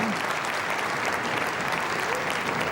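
Steady, dense applause from a large crowd supporting the players at a 10-pin bowling masters event in Barnsley, 2008, sustained and loud throughout with no break.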